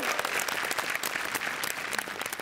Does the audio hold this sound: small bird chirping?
no